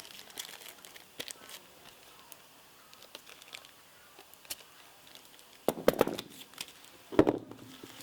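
Tissue paper being folded around a model airplane, with faint rustling and light taps, then two louder close bursts of crinkling paper near the end.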